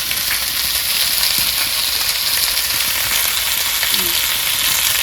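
Fish curry frying in a pan, a steady dense sizzle that holds loud and unbroken throughout, with no talk over it.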